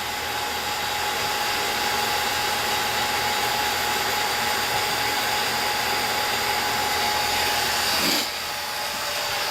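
A vacuum pump evacuates the air-conditioning system of a V8-swapped Mazda Miata, giving a loud, steady whirring drone with a constant whine that briefly shifts near the end.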